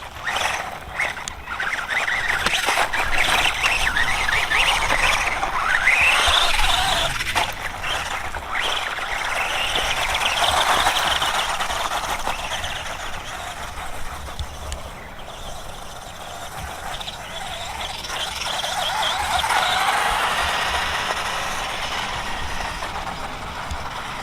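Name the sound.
CROBOLL 1:18 RC monster truck driving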